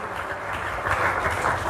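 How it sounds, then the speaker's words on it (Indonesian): A church congregation claps and cheers together in praise during a worship service, a loud, continuous wash of applause and voices that builds slightly toward the end. "Tepuk tangan dan bersorak semuanya."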